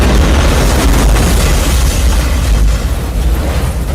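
A miniature boat blows up in the 1998 film Deep Rising, a loud, sustained roaring blast whose dense rumble fills the whole stretch with barely any letup.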